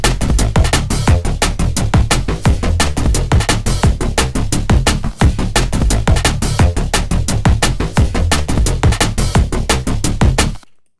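A fast, pulsing neurofunk synth bass arpeggio made in the Vital synthesizer plays over steady, punchy drums, loud and continuous, cutting off abruptly at the end.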